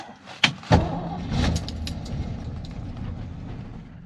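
A 1966 Ford Mustang's 289 V8 catches after a couple of sharp cranking bursts, then settles into a rough, uneven low rumble that keeps running, close by with no talking.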